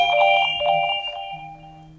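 A phone set off by a Garmin Forerunner 55 find-my-phone command rings with a bright, repeating electronic tone, close and steady, briefly pulsing then holding a lower note.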